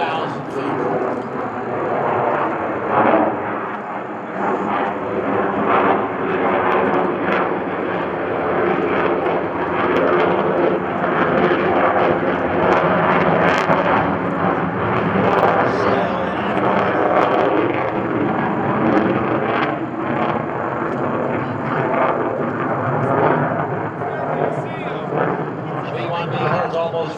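A Rockwell B-1B Lancer jet makes a combat climb over the airport at an open-house airshow, a loud, steady broadband roar that holds for the whole stretch without letting up.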